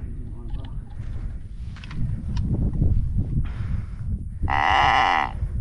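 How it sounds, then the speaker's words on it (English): A cow spooked near a herd of deer lets out a loud, drawn-out low moo near the end, following a stretch of rustling and quieter animal noises in the field. "That sounds like a cow."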